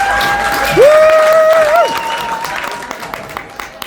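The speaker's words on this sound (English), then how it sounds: "give this young lady a round of applause" An audience claps for a young singer during a sit-down interview, a moderate steady applause with a cheer or whoop riding over it before tapering off.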